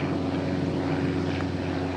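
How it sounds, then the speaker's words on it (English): Propeller airplane passing overhead, a steady droning engine hum with a low tonal buzz, continuous and moderately loud across the whole stretch, with no voices. "I hear a plane."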